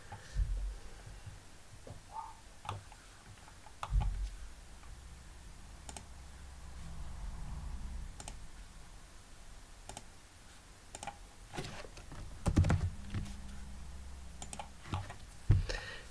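Faint, irregular keystrokes tap on a computer keyboard with occasional louder clicks, set against a low, quiet room hum.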